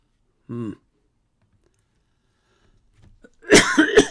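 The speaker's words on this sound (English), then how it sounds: "Coughing a lot today." A single short cough up close in an otherwise quiet moment, followed a few seconds later by a brief burst of noisy vocal sound.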